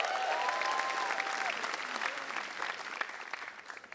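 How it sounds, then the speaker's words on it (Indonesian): Audience applause at a stand-up comedy show, a steady crowd clapping that gradually thins out, with a faint whistle or cheer early on and no clear speech. "Tepuk tangan untuk Suci 8."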